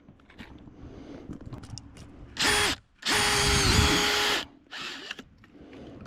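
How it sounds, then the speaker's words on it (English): A power drill drilling a tap hole into a maple tree revs in two close bursts, the second held for over a second, with quieter handling and scraping noises around them. "We're going to pull the tap and re-drill."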